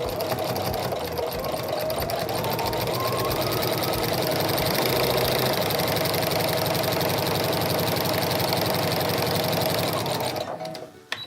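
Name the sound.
sewing machine with walking foot quilting straight line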